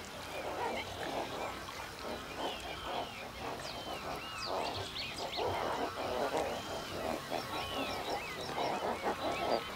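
A flock of wild flamingos in Turkey calling continuously, a dense, near chorus of goose-like honks and gabbling overlapping throughout.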